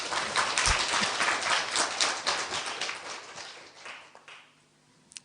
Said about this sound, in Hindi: जोर से भी ताली बजा सकते हैं